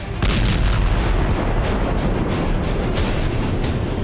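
A huge, rumbling blast from a massive air-dropped bomb roars continuously, deep and loud, with crackling bursts layered over the heavy low boom.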